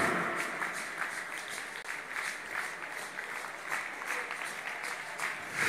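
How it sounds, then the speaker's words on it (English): A church congregation at a live prayer service clapping hands in a continuous dense burst of applause, steady and fairly distant, with faint voices mixed in. "Are you clapping your hands?"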